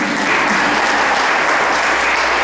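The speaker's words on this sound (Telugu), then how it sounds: "చప్పట్లు కొట్టచ్చా?" An audience at a Telugu devotional discourse on Rukmini Kalyanam breaks into dense, sustained applause, loud and even from start to finish with no talking.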